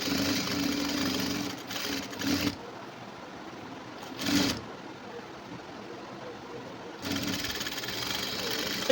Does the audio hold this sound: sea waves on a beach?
no